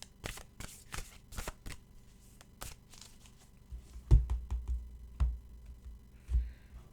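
Oracle cards shuffled by hand, heard as quick, crisp riffling flutters in a loose rhythm, followed by a few softer dull thumps as the deck is handled, close up and without talking.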